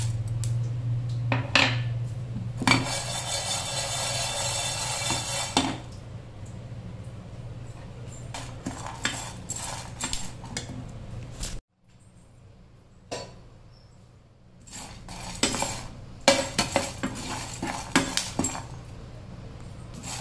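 Lentils being dry-roasted and stirred in a pan for Andhra-style brinjal masala curry, with a steady low hum under repeated metallic scraping and clinks of a utensil against the pan, broken by a short quiet gap.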